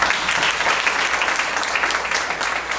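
Audience applause for volunteers at a Ms. Senior Davie County pageant, a steady wash of clapping from a full room holding an even level throughout, with no voices rising above it.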